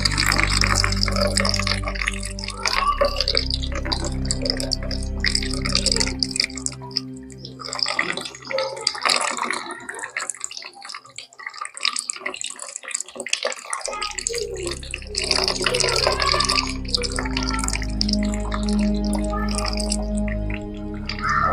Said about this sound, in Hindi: ये पानी डाला और दूसरे नाक से करने के लिए सिर को हल्का डाउन कर और नाक पे लगाते हैं